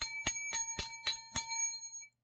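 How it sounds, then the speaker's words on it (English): A bright bell rings six times in a steady, even rhythm, each strike leaving a sustained metallic tone that fades out after the last ring. It sounds close and clear with no talking over it. "Ring the bell."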